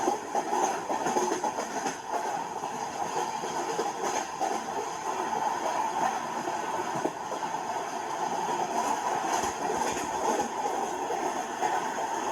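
The Sealdah Rajdhani Express running, heard from inside as a steady, loud rumble of wheels and carriage with faint rhythmic clacks over the rails, no talking.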